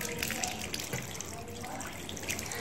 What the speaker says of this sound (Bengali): এবার আমি মুখ ধুয়ে নিচ্ছি